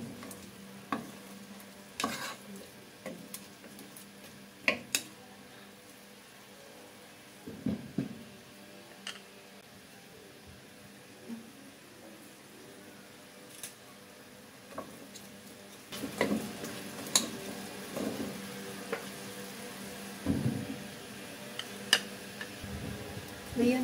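Chopsuey with quail eggs and chicken is stirred in a pan, making faint, scattered scrapes and clicks over a low steady background, with louder clattering toward the end.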